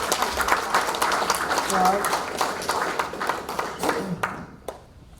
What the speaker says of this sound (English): So, round of applause for Carol.